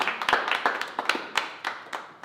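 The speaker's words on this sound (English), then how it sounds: "A huge round of applause for them" Sparse clapping from a small group on stage for an audio and camera crew at a live event, a dozen or so quick uneven claps, fairly faint and close, with no talking over it.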